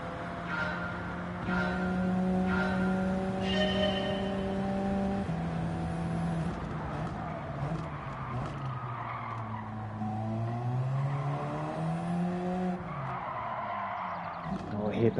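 A race car in Gran Turismo 7 revs and shifts through its engine range, with tire squeal in the corners and a voice talking over the driving.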